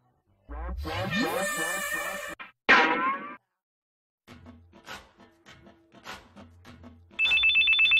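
A phone ringtone sounds for an incoming call, a loud repeating electronic ring near the start and again at the end, with sparse rustling and movement in between.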